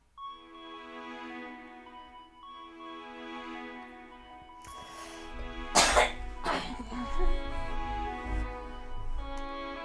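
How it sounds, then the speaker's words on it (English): Quiet tonal music plays, then a person coughs sharply twice near the microphone, followed by some throat clearing over the continuing music. "sorry for the coughing"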